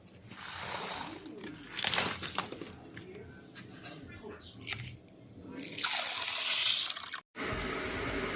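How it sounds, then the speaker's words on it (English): Samp grains being rinsed under running tap water in a sink, with steady splashing and pouring that swells louder near the end, close by, with no voices. "With a gentle rinse, she ensured the grains were clean before beginning the cooking process"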